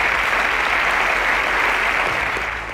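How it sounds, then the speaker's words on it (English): Steady, dense applause from a studio audience at a televised school science quiz semi-final, loud and continuous throughout, tapering slightly at the very end. "Round of applause for Enoch."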